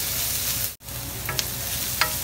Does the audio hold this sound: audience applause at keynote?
no